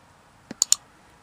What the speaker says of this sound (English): So again, I go to D on my keyboard.